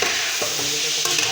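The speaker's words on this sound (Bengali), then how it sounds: "তখন নাড়া দিয়ে দিলে একটু তেল ভাজুন" Spices fry in hot oil with a close, continuous sizzle, while a spoon stirs and scrapes the pan in short strokes.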